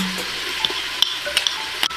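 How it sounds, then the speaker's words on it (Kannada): Mutton curry base with ginger garlic paste sizzles steadily in a pan, with soft clinks and scrapes of stirring scattered over the continuous frying hiss. "ಇವಾಗ ನೀವು ನೋಡ್ತಿರ್ಬೋದು ಕ್ಲೀನಾಗಿ ಫ್ರೈ ಆಗ್ತಾ ಇದೆ"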